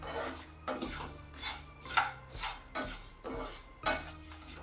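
Coriander seeds, fenugreek and fennel seeds roast in a pan for a gooseberry pickle, stirred in a steady rhythm of dry scraping and rattling strokes, close up with no talk.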